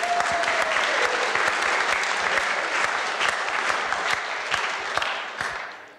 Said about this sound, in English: I believe we need a round of applause